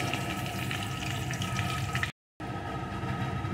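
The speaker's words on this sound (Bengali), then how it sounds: "এখন আলুগুলো লাল লাল করে ভেজে নেব।" Potatoes fry in oil with a continuous, close hiss and crackle that drops out for a moment before carrying on.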